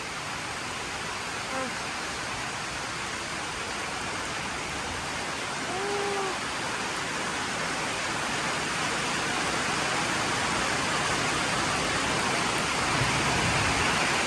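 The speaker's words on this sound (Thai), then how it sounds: "แต่มื้อนี้ฝนตกอีกแล้วทุกคน" Heavy rain pours down steadily on a hot day, a dense, constant wash of noise that swells slightly louder toward the end, with a brief faint tonal call near the middle.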